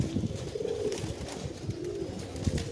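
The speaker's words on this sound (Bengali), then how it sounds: "এই হচ্ছে পাকা দোবাজ আবলুক পায়রা" An Abaluk pigeon, a seasoned flyer with clipped wings, gives low, repeated coos close by over a steady background hum, with no one talking.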